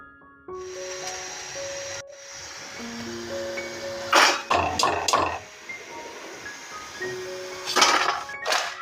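Leftover chapati vadi frying crisp in a pan, a steady hiss of hot oil with bursts of sizzling and clattering as the pieces are turned, close and moderately loud.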